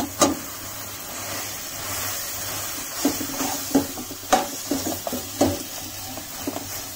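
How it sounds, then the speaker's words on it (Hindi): Mashed potatoes being stirred into frying onions and capsicum for pav bhaji, with steady sizzling and a few scraping, knocking stirs in the pan; no one speaks. "अब इसमें हम आलू डाल रहे हैं"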